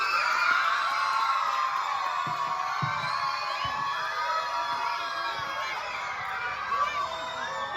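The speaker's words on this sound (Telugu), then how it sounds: "గట్టిగా కేకలు." Children shout and cheer loudly together at a mountain school, a dense, continuous chorus of high voices with whoops, steady and fairly close throughout.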